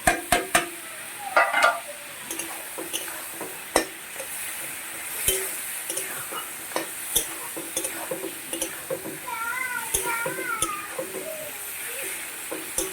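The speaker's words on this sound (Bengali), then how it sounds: "মাথাগুলো কষানো হয়ে গেছে" Fried fish heads stir-fried in spices in a pan, a low sizzle under sparse clicks of a spatula, with faint bird chirps in the background.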